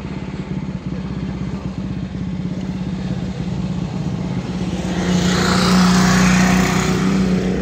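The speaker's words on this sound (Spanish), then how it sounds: "Honda CB 450, una moto muy dura y a muy buen precio." A classic Honda CB 450 motorcycle engine on an outing with other old bikes, a steady close drone that swells louder toward the end amid wind and road noise.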